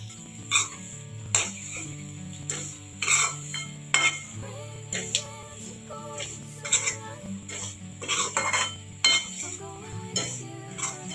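Semolina for upma being dry-roasted in a pan, stirred with a spoon that clinks and scrapes against the metal in uneven strokes, with a faint sizzle underneath.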